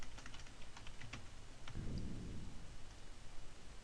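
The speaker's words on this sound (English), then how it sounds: "I could type in my caption" Computer keyboard keys tapped in short quick bursts while a table caption is entered, with soft close clicks that thin out and give way to a low rumble midway.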